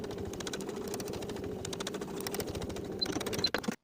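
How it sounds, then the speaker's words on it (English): A domestic sewing machine edge stitches a lining gap closed on a wool jacket sleeve, running in a steady, quiet, continuous whir that cuts off abruptly near the end. "we're just going to edge stitch closed from the top to the bottom of the gap"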